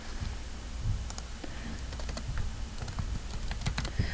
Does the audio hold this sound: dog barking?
no